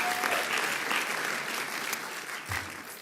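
An audience at a Brooklyn public event with New York's governor gives a sustained round of dense clapping that holds steady throughout, loud and close, then begins to thin slightly toward the end.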